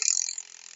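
Freewheel ratchet of a spinning bicycle wheel, a rapid, crisp run of clicks up close that slows and fades over under a second.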